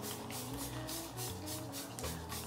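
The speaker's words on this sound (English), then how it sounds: "Spray it down with a little bit of water." A handheld spray bottle misting water onto a wig gives a run of quick, soft hissing spritzes in a steady rhythm, close by and fairly quiet, with no talking.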